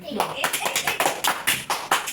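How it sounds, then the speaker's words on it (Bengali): A small group claps at a home birthday as the cake is about to be cut, around ten quick, close hand claps in an uneven rhythm with voices in between. "হাততালি দিলেই চলবে"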